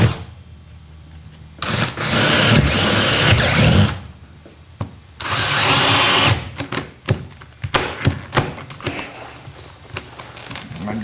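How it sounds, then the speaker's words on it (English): A power drill drilling through a carpeted floor whines in two sustained bursts of a couple of seconds each as the bit snags, followed by scattered knocks and rattling handling noises close by. "My drill bit's hung a little bit."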